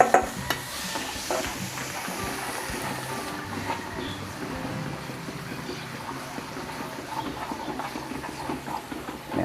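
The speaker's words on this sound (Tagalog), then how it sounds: "Tapos mag-isa na po tayo ng bawang" Garlic sautés in a pan with a soft, continuous sizzle and light stirring scrapes, close by, steady from start to finish.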